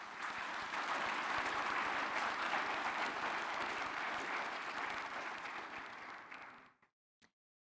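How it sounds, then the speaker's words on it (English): A large audience at the opening ceremony of a sovereign wealth fund forum in Muscat applauds the organizing team, loud dense clapping that holds for several seconds, then fades out with a last isolated clap. "Please, let's hear a huge round of applause for the team behind all of this."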